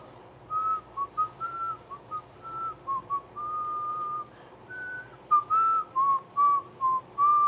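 A person whistles a wandering tune of short and held notes, clear and close, with brief pauses between phrases and no talking.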